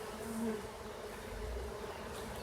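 Honey bees on a hive frame from a colony that has just lost its virgin queen drone in a dense, continuous buzz, close and steady without pause.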